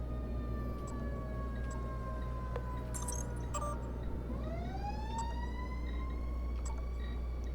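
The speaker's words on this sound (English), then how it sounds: "There's an ambulance." In the video game Prey, an ambulance siren wails with rising and falling tones over a steady low drone, faint and distant, and no one speaks.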